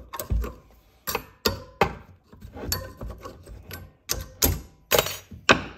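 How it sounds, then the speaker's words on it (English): A screwdriver prying metal brake dust shield tins off the rear brakes of a Ford F150, giving a run of sharp, close metallic clicks and snaps spaced irregularly, with faint scraping between them and no talk. "So we'll just take a screwdriver, just kind of pry them out. It should just pop off pretty easily."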